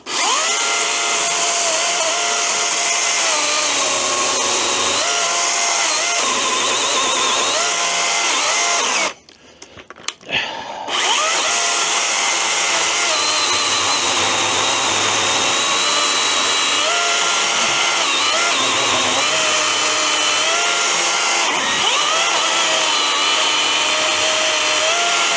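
A DeWalt DCMCS575N cordless cut-off saw cutting, giving a loud, continuous high-pitched whine that stops briefly partway through, then resumes and runs steadily to the end.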